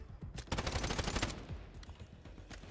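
Rapid bursts of gunfire from a shooting game against AI guards, several quick volleys of shots packed close together, fairly faint and distant with no talking.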